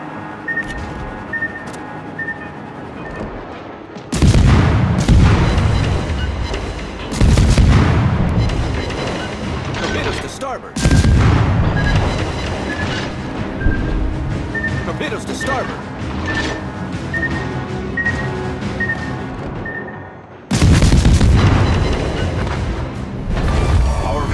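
Heavy naval gunfire and explosions in the World of Warships game, with repeated loud booming blasts and crashes recurring throughout, interspersed with quieter stretches and an automated game voice announcing events.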